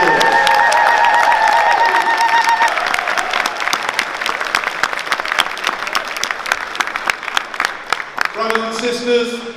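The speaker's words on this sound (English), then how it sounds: "give yourselves a massive round of applause" An evening program audience breaks into loud, close applause with cheering, sharp claps thinning toward the end as a voice starts to speak.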